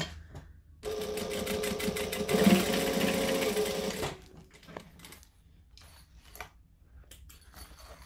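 A sewing machine top stitches the side of a fabric hussy case, running steadily and fairly close for about three seconds, then stopping into quiet handling noises.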